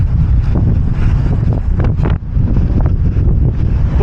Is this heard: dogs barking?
no